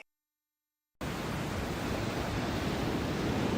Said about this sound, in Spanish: que empiece con el mar